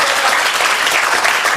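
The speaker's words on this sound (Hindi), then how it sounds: "एक ज़ोरदार तालियों से इजाज़त दीजिए" Dense, loud applause from a large audience at a Delhi mushaira poetry gathering, a continuous even wash of many hands clapping close and unbroken throughout.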